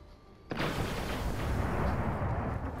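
A Nova bomb super ability detonates in a video game, a sudden loud blast that starts half a second in and rolls into a sustained, dense roar lasting several seconds.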